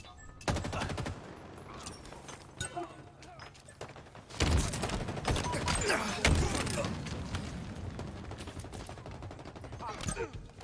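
Gunfire in the video game Halo Infinite: bursts of rapid automatic fire and sharp single shots pile up into dense, loud volleys, with a voice talking over the action.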